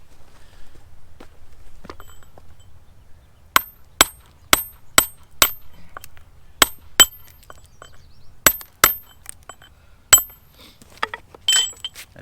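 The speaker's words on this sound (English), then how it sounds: "So I'm going to go ahead and use this nice pointy chisel here." Sharp metallic clinks of a pointy chisel struck against stone while knocking a high spot off a rock for a garden wall, about a dozen crisp, close hits in irregular bursts over a quiet background.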